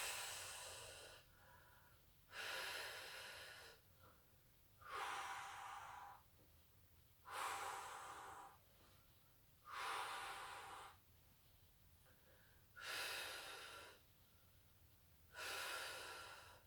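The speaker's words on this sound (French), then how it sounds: "Je souffle." Slow, deliberate breaths during a relaxation exercise, seven long exhalations in an even rhythm with quiet pauses between, close and soft with no speech.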